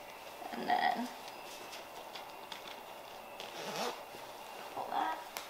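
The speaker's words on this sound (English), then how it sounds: "the zipper works." A zipper is pulled in a couple of quick, scratchy zips, close and fairly quiet, separated by a pause.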